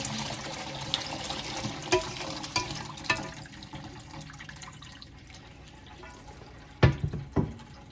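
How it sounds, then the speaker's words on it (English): Lamb broth poured through a strainer into a bowl, a steady liquid trickle with scattered drips and splashes, ending in a couple of sharp clinks or knocks near the end. "I'm gonna run the broth through the strainer to get all the extra stuff out so we can just separate the pure broth"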